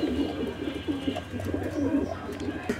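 Red Lahori pigeons coo in a continuous low, throaty murmur close by, several overlapping rolling calls repeating without pause.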